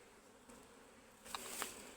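Honeybees buzzing around a hive, a faint, steady low drone with a couple of brief louder buzzes as insects pass close near the end.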